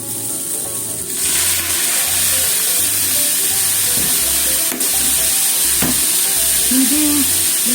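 Sweet potato strips for kinpira sizzle loudly as they stir-fry in a pan, a constant close hiss with occasional scraping stirs and small clinks, without speech.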